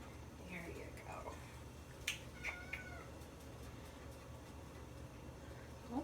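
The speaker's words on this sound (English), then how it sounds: "there's a kitten calling us" A kitten mews in a few short, faint calls from a little way off in a quiet room, amid light clicks and a soft background hiss.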